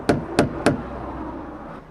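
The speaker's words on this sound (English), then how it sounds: "Knock on the door." Three sharp knocks on a door at a Hop-tu-Naa house visit, evenly spaced and close, followed by quiet room tone.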